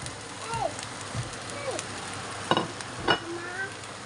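Tomato, pepper and garlic sizzle in a hot pan for homemade lagman, with a steady crackling hiss broken by a few sharp scraping stirs, and faint voices in the background.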